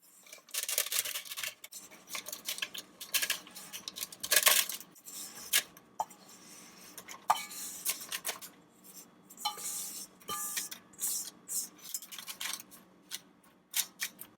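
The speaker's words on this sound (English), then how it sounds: "So now let's get all of our apples in there." Sliced Granny Smith apples are dropped and spread into a parchment-lined Dutch oven, giving irregular clattering, thudding and scraping bursts of fruit pieces knocking against each other and the pan, close up, with no talking.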